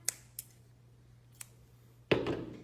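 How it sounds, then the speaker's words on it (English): Scissors cutting Q-tips in half for a kids' dinosaur craft, a few sharp isolated snips spaced apart, then a louder rustling snip at the end. "you can take our scissors and cut those in half."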